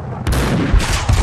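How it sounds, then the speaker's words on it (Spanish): Gunfire in the video game Max Payne 2: a loud, sharp burst of shots rings out close by, with repeated low impacts following over about a second. "¿Quién me dispara?"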